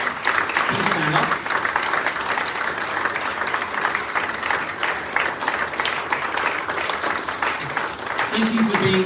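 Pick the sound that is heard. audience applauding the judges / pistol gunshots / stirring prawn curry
audience applauding the judges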